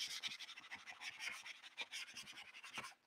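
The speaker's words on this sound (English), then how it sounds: "that's one layer of wintergreen oil plus some burnishing" Steady scraping and rubbing as a spoon burnishes a wintergreen-oil image transfer onto an art journal page, a continuous close rasp with rhythmic strokes and no talking.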